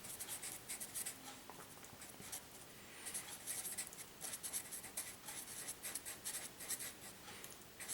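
Pen or pencil writing by hand on paper while a logic statement is worked out, a steady scratchy scribbling with short bursts of strokes throughout, close and fairly quiet with no talk.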